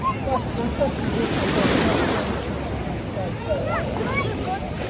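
Pacific Ocean waves and surf off Hawaii wash in as a steady, loud roar with gusty wind buffeting the microphone, a continuous wash that swells slightly midway.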